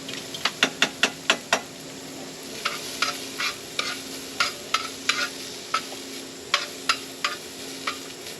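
Onions cooking in oil in a hot skillet, a steady low sizzle broken by a run of sharp scraping stirs, then more spaced utensil strokes against the pan.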